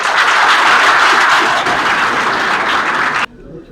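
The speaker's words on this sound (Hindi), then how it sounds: "पहले तो ताली बजा देने के लिए" Classroom of students at an intermediate college in Uttar Pradesh breaks into loud, steady applause for a classmate's answer, continuing evenly before cutting off sharply.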